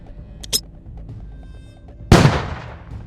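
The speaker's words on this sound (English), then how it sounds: "Ammunition starts to detonate." Ammunition cooking off inside a burning Russian vehicle: a short crack early on, then a single loud, sharp blast that rings out and decays over the following second, with no talk.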